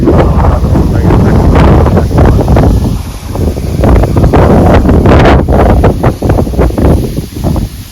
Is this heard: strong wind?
yes